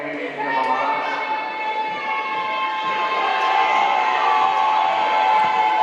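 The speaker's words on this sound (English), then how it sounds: "Crowd getting loud." A crowd at a women's basketball game roars loudly and steadily for several seconds, a dense sustained swell of cheering with a faint tonal note running through it, building slightly toward the end.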